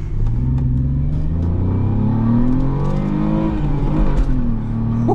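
A black 2002 Ford Mondeo ST220 with a 3.0 V6 accelerates hard around 3,500 rpm, its engine note loud, close and steadily rising in pitch over several seconds with no talking.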